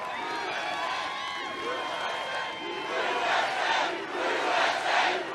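Rally crowd in Ohio cheering and shouting, a broad roar with whistles and rising chants that build louder toward the end, heard from within the large crowd.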